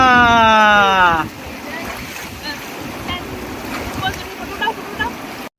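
A strong river current rushes and splashes at a picnic spot, a steady wash of flowing water under wind buffeting the microphone, after a brief voice at the start.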